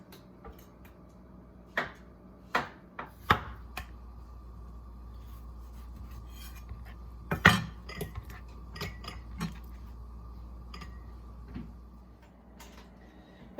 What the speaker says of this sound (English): I'm slicing these all, about a ½ inch thick is what I like